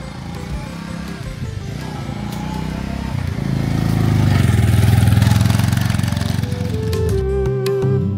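An off-road motorbike engine on a mountain trail, a close, steady chugging that swells louder through the middle and then drops away near the end.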